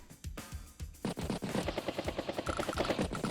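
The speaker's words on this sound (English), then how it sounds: "Battlecopter strikes a Neo tank." Battlecopter attacking a Neo tank in Advance Wars, a rapid burst of synthesized machine-gun fire with repeated punchy shots, loud and continuous after a couple of opening hits.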